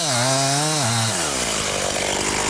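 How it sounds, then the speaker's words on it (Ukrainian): A chainsaw cuts a felled pine into four-metre logs in a forest near Boryspil. The engine whines loud and close, its pitch sagging as it bites into the wood, then turns to a steady, dense cutting roar. "Сосну підпиляли, потім ріжуть на 4-метрові колоди."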